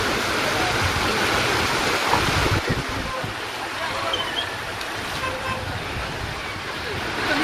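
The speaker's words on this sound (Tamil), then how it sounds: "கனமழையால் மகாராஷ்டிர மாநிலம் மும்பையில் போக்குவரத்து நெரிசல். மெதுவாக ஊர்ந்து சென்ற வாகனங்கள்." Rainy Mumbai street in a slow traffic jam, with a dense hiss of rain and moving vehicles and a few short car horn toots breaking through near the middle.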